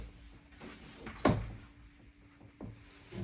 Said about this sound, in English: it seems that the door is not properly aligned and it so rubs when you try to close it.